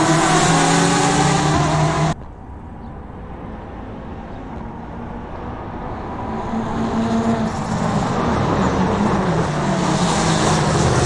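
GTE race cars at a race start at Black Cat County in Assetto Corsa, with loud roaring engines. The sound cuts off abruptly, then drops to a quieter engine drone that swells back to a dense, steady roar.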